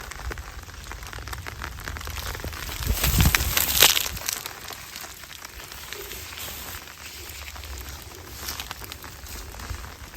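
Spring rain patters softly on a farm during a harvest of land dureup shoots, a fine continuous hiss with crinkling and rustling handling noises that swell briefly in the middle.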